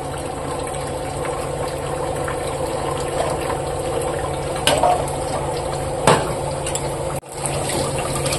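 Cold water running steadily over boiled eggs in a pot, a continuous close splashing and gurgling flow with a few louder clunks, no talking.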